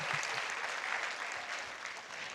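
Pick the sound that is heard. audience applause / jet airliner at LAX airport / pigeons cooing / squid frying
audience applause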